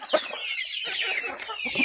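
Chickens raised on a small farm on low-cost alternative feed cluck in a run of short, close calls at moderate loudness, with no talking.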